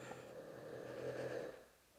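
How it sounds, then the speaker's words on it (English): A pet dog snoring nearby, a single drawn-out rasping breath that swells and then fades, heard alone in a quiet room. "That was my dog snoring."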